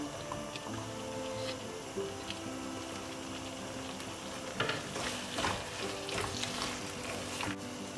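Green onions hit a hot pan with chicken for lettuce wraps, a soft steady sizzle that swells into louder crackling frying with stirring scrapes in the second half.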